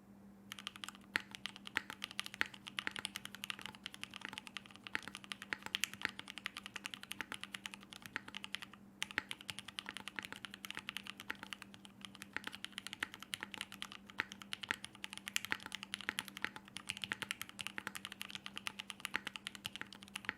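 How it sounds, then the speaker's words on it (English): Steady, rapid typing on a custom-built VAST60 keyboard, close and continuous with brief pauses, over a low constant hum; no voices. "go for another, this time slightly longer typing test"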